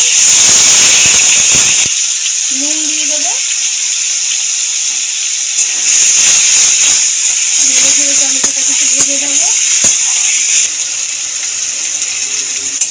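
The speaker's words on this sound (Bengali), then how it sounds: "আগে থেকে গ্রেট করে রেখেছিলাম টমেটো টমেটোটাও দিয়ে দেবো" Grated tomato hits hot oil with a cumin and bay leaf tempering, giving a loud, continuous close-up hiss throughout, while someone talks briefly over the sizzle.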